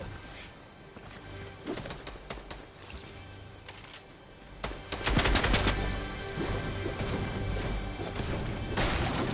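Gunfire in a Fortnite duos match: irregular single shots and rapid bursts crack at varying distances, some sharp and close, others softer, over continuous background game noise.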